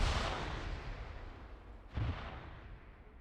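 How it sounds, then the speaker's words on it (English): A grenade explodes in a military shooter video game, opening with a loud rumbling blast that fades, then a second muffled boom about two seconds later trails off into low rumble. "Finn just threw a grenade on Pixie."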